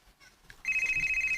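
A phone ringtone starts abruptly and rings steadily as a bright, repeating electronic tone, close and clear, in a quiet home with a soft voice just before it.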